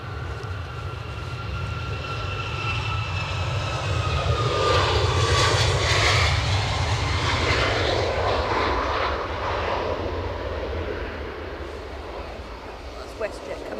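Engines of a WestJet airliner at Edinburgh Airport give a steady, loud roar with a thin whine drifting over it, swelling slightly midway and easing near the end, while voices talk over it.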